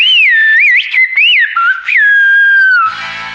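A loud, close human whistle in the Silbo Gomero whistled language glides and warbles through rising and falling tones in phrase-like bursts, then ends abruptly, with no speech.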